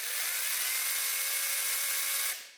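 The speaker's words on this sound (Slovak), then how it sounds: "Píla má teda dve rýchlosti, mohol si vidieť veľmi rýchle zastavenie a akcelerácia je rovnako svižná." A small Fieldmann FZP V pruning chainsaw with automatic chain oiling runs at a steady high whine for over two seconds, loud and close, then quickly winds down at the end.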